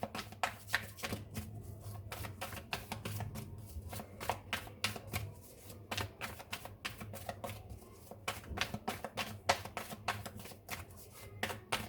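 Tarot cards shuffled over and over, a dense run of quick riffling flutters and soft slaps with short pauses, close up and alone.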